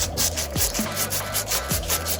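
P40 sandpaper rubbing on a Bolens 20-inch 450 series lawnmower part with a 125cc Briggs and Stratton engine, giving a rhythmic back-and-forth scratchy sanding under a steady low hum, close, no talk.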